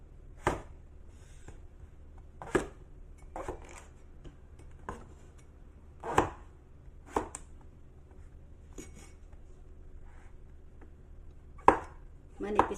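Knife chopping thinly through a tough king oyster mushroom on a cutting board, a series of sharp, close, irregularly spaced cuts in a quiet kitchen, with no talking.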